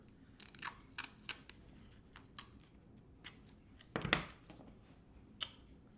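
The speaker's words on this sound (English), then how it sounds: "I've got a piece of masking tape here for this new jar." Masking tape being pulled, torn and pressed onto a new jar of sourdough starter, a series of short crisp crackles and rips, one louder tearing burst near the end, close by in a quiet room.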